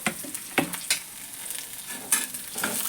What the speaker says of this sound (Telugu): కొంచెం ఉల్లిపాయ వేస్తున్నాను, బాగుంటుంది.